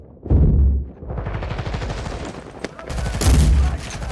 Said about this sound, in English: Oh, okay. Grenade launcher.